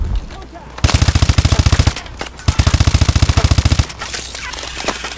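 Two long bursts of rapid automatic gunfire in Call of Duty Advanced Warfare, loud and close with evenly spaced shots, separated by a short pause and followed by quieter scattered sounds.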